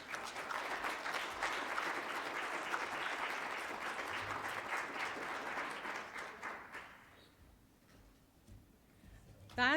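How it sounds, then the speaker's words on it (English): Sustained audience applause for a land use and economic development panel at a conference session, a steady wash of many hands clapping that fades after about seven seconds into faint room noise. "you can continue to applaud while I give them a little token of our appreciation"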